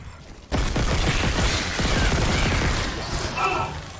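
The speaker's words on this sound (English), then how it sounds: "What's shooting me?" Sustained rapid gunfire aimed at the player in the video game Dead Space starts abruptly and stays loud and dense for several seconds, with clattering mechanical noise and a brief higher tone near the end.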